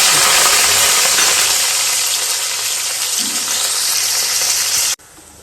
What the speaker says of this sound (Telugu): ఉల్లిపాయ పచ్చిమిరపకాయ బాగా వేగిపోయినాయండి